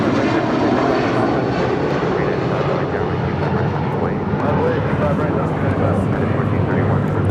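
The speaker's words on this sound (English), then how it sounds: "This is United Airlines 1431, headed out to Honolulu on a 757-300." A United Airlines Boeing 757-300 jet departs LAX bound for Honolulu, its engines producing a loud, steady broadband roar that holds throughout, with voices talking over it.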